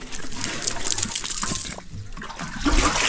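Water pours steadily onto ampalaya plants in a garden, a close, continuous splashing and trickling with no talking.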